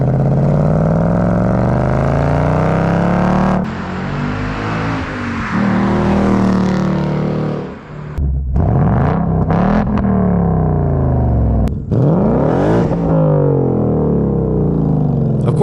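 Engine revs from a Ford Mustang on its stock exhaust, loud and close, rising and falling in repeated throttle blips with sharp cut-offs and deep burbling between the pulls.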